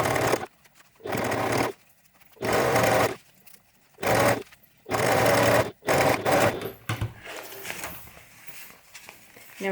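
Sewing machine top-stitching folded fabric for a cartoon bag, running in several steady bursts of a second or so each with brief pauses between, close and clear, then trailing into softer handling noise.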